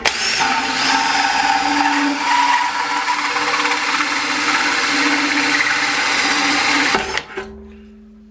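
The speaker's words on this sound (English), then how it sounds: "the hole that I've cut with my hole saw was actually quite a lot bigger than the one I did with the twist drill" A hole saw grinds steadily through metal for about seven seconds, a loud continuous whirring cut with a droning tone, then the tool winds down and leaves a faint fading hum.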